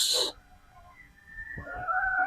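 Gilmore Hatch pullet chickens on a farm give a short loud squawk, followed by a pause and then drawn-out clucking and crowing calls nearby.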